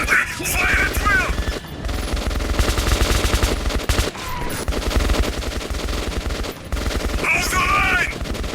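Sustained gunfire in Metro 2033 Redux, loud rapid machine-gun bursts and fusillades rattling continuously for several seconds, with brief pauses and other combat noise and mechanisms mixed in.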